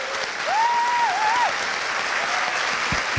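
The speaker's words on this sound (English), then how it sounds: "please join me in giving them a round of applause." An audience at a Voice for Curtin community event with Kate Chaney MP applauds the panel, steady dense clapping that holds at an even level throughout, with a brief whistle-like tone rising over it early on.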